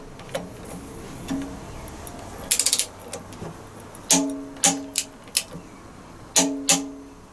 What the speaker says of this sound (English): Let's just get this bolt torqued up, nut torqued up, sorry.